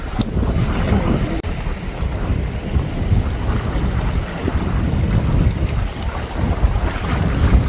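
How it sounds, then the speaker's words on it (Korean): Cold wind gusts outdoors by the sea, roaring steadily into the microphone with a continuous low rumble and surf-like wash throughout, loud and close, with no clear speech. "이 추운 바람 부는 날에"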